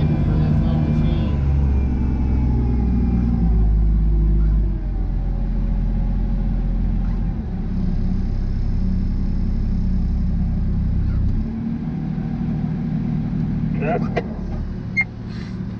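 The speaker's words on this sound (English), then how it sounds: "It's pretty long skidding for this little machine." A small log skidder's engine runs with a heavy, steady low rumble, loud and close, under a voice talking throughout.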